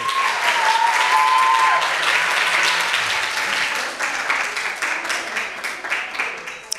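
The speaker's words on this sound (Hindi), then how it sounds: "इस बच्ची की बहुत कोशिश थी, तालियां लगा दें।" An audience in an arts council hall in Gujranwala claps for a young girl at an award ceremony, loud sustained applause that slowly thins out into scattered claps.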